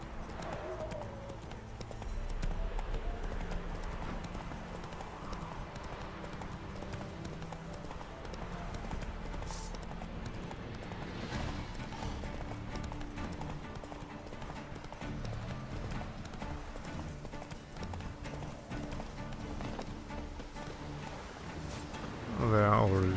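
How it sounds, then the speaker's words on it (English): Horses trot with steady clip-clopping hooves in The Witcher 3: Blood and Wine, a neigh rising briefly, as a person speaks over them. "There are already those two horses of the wonderful French knights."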